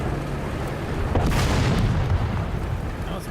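Artillery fire in the tank game War Thunder: one deep, rumbling boom rolling over steady background noise, loud and close, with a long dull tail.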